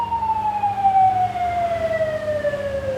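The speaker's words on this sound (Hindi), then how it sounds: "एम्बुलेंस जा रही है" An ambulance siren wails past on a street in Shimla, a loud descending tone that falls steadily in pitch as the vehicle moves away, over low traffic rumble and with no voices.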